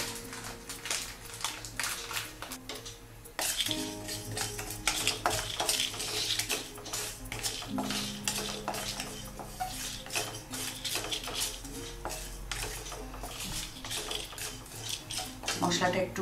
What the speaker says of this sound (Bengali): মশলাটা ভেজে গুঁড়ো করে নেব